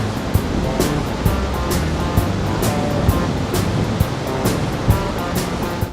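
Ocean waves and surf breaking at a surfing spot, a steady loud wash of surging water with repeated crashing bursts roughly every second, close and continuous with no voices.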